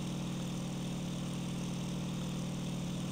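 An aircraft engine in the IL-2 1946 flight game, held at set power, droning as a steady, even, continuous hum with no change in pitch or level.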